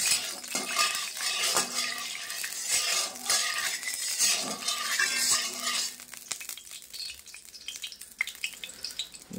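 A large spatula scrapes and stirs through a pot of frying pumpkin and potato for khichuri, giving steady sizzling with clinks of metal on metal, busy for the first six seconds and then sparser.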